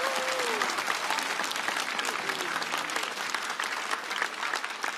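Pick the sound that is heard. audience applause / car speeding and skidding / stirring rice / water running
audience applause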